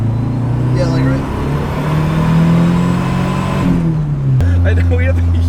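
A Mazda RX-7 FD fitted with a K-series engine and a boost leak drones steadily while driving, its engine pitch rising then dropping sharply as it shifts or lets off, loud and close with people talking over it.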